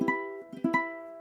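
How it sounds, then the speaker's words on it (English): A big open-string chord strummed on a high G ukulele, a few close bright strums that ring out fully with no talking. "We're playing a high G ukulele right now."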